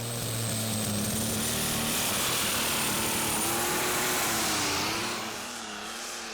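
Superstock pulling tractor with a new 10.5 litre engine that runs rough, roaring loudly at a tractor pulling event in Herning, Denmark, a sustained droning howl that shifts pitch before dropping off near the end.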